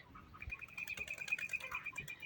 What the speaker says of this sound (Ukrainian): Дивіться, ще голуби до нас прилітають,